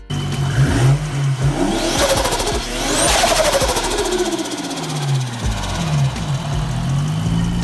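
A vehicle engine with intake induction noise revs up and down repeatedly, loud and close, its pitch climbing and falling in sweeping surges.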